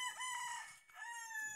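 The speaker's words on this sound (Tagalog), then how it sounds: "may mga alagang manok din" A pet rooster at a village house crows twice in close succession, a clear, fairly faint cock-a-doodle-doo heard from some distance with no talking.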